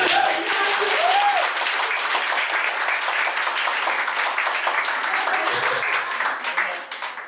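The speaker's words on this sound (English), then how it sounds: "Let's give him a big applause." Audience at a tech career panel discussion breaks into loud, sustained applause, dense clapping filling the room with brief voices underneath, tapering off near the end.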